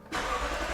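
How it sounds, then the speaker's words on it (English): A 2016 Lexus RC F with a naturally aspirated V8 cranks and fires, jumping from near silence into a deep, steady, close rumble for under a second. "It's just a traditional V8 noise, naturally aspirated, no turbochargers or anything to ruin the noise"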